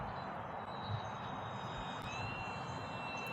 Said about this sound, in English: Might not be the most beautiful RC airplane, but just judging by how this one flies